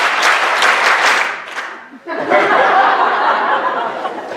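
A theatre audience claps together on a counted cue in a dance-themed stage show, first a loud burst with scattered laughter that quickly dies away, then a second sustained round of clapping and chuckles from the crowd.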